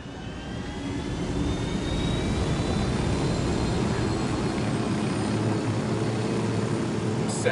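A helicopter in Ghost Recon Wildlands whirs as a loud, steady rotor and engine roar that builds in the first second and holds constant to the end.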